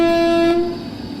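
An Indian locomotive hauling the 13006 Amritsar–Howrah Mail in a Train Simulator game sounds a loud, steady horn blast lasting just over half a second, then fades into a low rolling rumble of the train.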